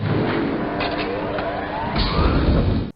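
A 1985 Ford Ranger engine idling steadily just after starting, a close, continuous motor rumble that swells briefly near the end before cutting off abruptly.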